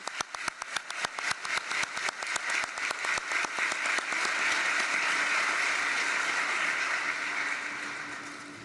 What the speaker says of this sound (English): Let's applaud the people of these territories.